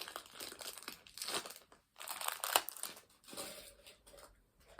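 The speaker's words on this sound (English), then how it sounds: "plastic bags need to just leave me alone." A plastic bag crinkling and rustling while a doll or toy is unboxed, in several irregular close bursts with short quiet gaps between them.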